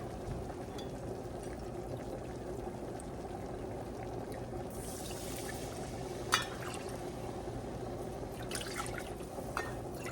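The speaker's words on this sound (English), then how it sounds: "So I'm going to add my beef broth and we need 3 cups." Home canned beef broth poured into a pot on the stove, a continuous liquid gush and splash against steady sizzling, fairly quiet and close, with a few small clinks.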